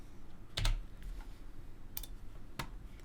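A few scattered, faint keystrokes on a computer keyboard, light isolated clicks over a low steady background hum in a quiet room.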